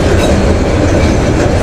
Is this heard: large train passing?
yes